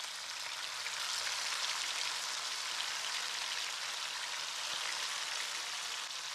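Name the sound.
fish frying in hot oil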